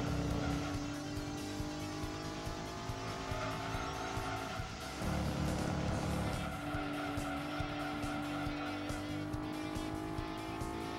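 Race cars in Gran Turismo 2, including a Mitsubishi FTO, run with a steady, loud engine drone and tire squeal throughout. A brief surge comes near the middle, and no one speaks.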